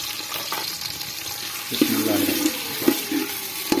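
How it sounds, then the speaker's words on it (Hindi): Finely chopped onion dropped into hot oil for a vegetable pulao, bursting into a close, loud sizzle partway through, with a few sharper spits over a steady hissing background. "अब एक प्याज है मेरे पास बारीक कटा हुआ, ये शामिल कर लेंगे।"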